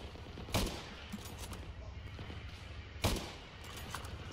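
Two loud, sharp gunshots about two and a half seconds apart in the WW2 video game Ravenfield, fired by Soviet forces, each cutting through a steady low battlefield rumble.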